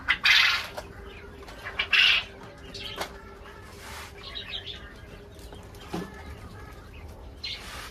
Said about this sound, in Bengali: ওই যে এগুলোও ডাকতেছে এখন, অনেকক্ষণ চুপ ছিল তো এখন ডাকবে।